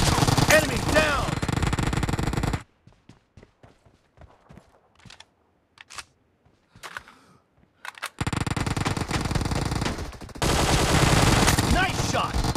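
Rapid automatic gunfire from a Gun Game match on a new arena map hammers out in loud sustained bursts, breaks for a stretch of scattered single shots and clicks, then returns as heavy continuous fire.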